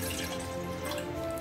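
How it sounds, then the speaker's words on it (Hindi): Water pours into a kadha paste in a cooking pot, a brief steady trickling and splashing close by and fairly quiet, with no talking. "अब हम पानी डाल देंगे"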